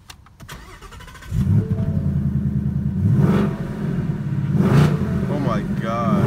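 A Ford Mustang GT engine cranks and catches, then idles with a deep, loud rumble and swells in two throaty revs before settling, with a voice briefly heard at the start and near the end.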